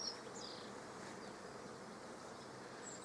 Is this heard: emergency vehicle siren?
no